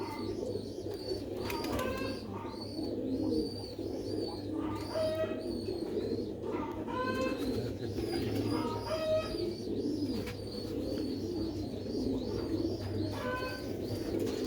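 Sialkoti pigeons coo repeatedly in a bird enclosure, their soft rolling calls layered over a steady low hum, with scattered chirps from other birds and faint wing flutters throughout.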